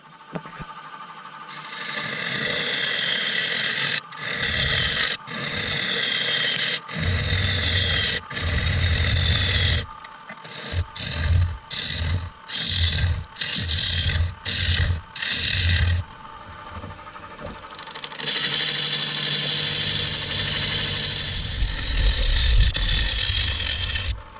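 A worn woodturning bowl gouge is sharpened on a grinder, giving a loud, continuous grinding whine broken by short pauses and a run of rapid on-off contacts midway, then a steady stretch at the end.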